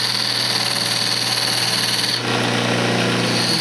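A bead tool scrapes a wooden candle holder spinning on a lathe, producing a steady, loud whirring hum with a high whine that shifts in tone partway through as the cut changes.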